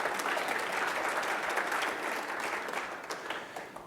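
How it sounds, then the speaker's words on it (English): Conference audience applauds, a dense burst of clapping from a seated crowd that holds steady and then fades slightly toward the end. "Can we give them a round of applause?"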